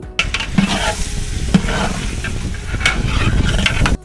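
Large pot of vegetable pulao base being stirred after a kilo of tomatoes and eight green chillies go in, cooking for seventy people; steady scraping and sizzling with a few sharp clanks of the spoon against the pot.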